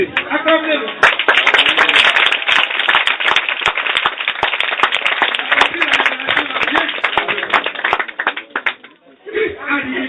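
Applause and clapping from a congregation at a church meeting in Bonoua, Côte d'Ivoire, loud and sustained for about eight seconds, dense and crackling, dipping briefly near the end before swelling again.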